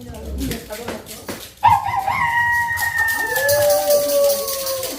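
A voice imitates a rooster crowing, a loud rising then drawn-out falling call, after a few seconds of noisy talk and shuffling.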